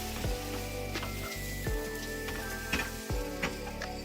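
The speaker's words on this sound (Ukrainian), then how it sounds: "виливаю на сковороду і рівномірно розподіляю тісто по поверхні сковороди" Milk pancake batter hits an oiled frying pan and sizzles steadily and close, with crackling, rain-like patter and a few clinks of the ladle and pan.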